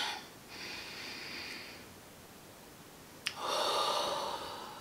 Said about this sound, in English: I'm gonna take a deep breath.